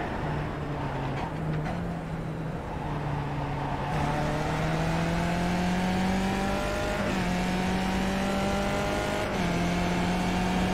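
Race car engine in a Skip Barber car on Mount Panorama in iRacing, rolling through corners in low gear: a steady droning tone that rises gradually, dips and climbs again with each shift, loud and continuous, with no talk.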